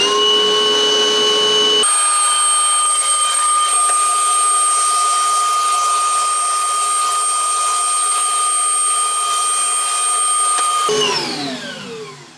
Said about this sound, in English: Now this is going to make a bit of noise, so and again, I don't think too many people want to watch me vacuum